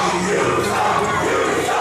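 A large pro wrestling crowd roars and jeers at wrestler Ethan Blake during a Vendetta championship main event, a loud, dense wall of voices with no break.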